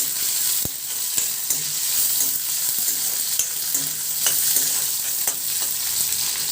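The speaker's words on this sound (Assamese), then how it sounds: "পিঁয়াজখিনি ৰঙচুৱা হোৱালৈকে মই লাৰি থাকিম।" Chopped onions sizzle steadily in a hot pan for a small-fish charchari dish, with sharp scraping clicks of a spatula stirring them at irregular intervals over the continuous crackle.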